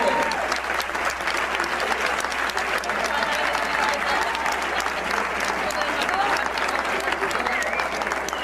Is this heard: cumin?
no